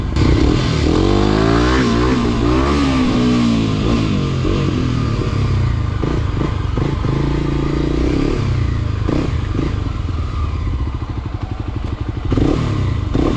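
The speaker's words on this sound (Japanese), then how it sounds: "最後にウィリーの練習して帰るか。" A Kawasaki KLX250 trail motorcycle revs hard and repeatedly while practicing wheelies off-road, loud nearby engine surges with throttle blips, clatter and occasional thumps.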